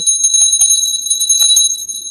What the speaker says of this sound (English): So your guides are telling me to ring the bell.